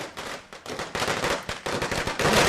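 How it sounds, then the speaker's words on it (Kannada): Firecrackers burst outside a cinema at a film's opening show in Chitradurga, in a rapid, dense string of loud cracks, close by and continuous, with no speech. "ಚಿತ್ರಮಂದಿರದ ಮುಂಭಾಗ ಪಟಾಕಿ ಸಿಡಿಸಿ ಸಂಭ್ರಮಿಸುವಂತಹ ದೃಶ್ಯಗಳನ್ನ ನೋಡ್ತಾ ಇದ್ದೀರಿ"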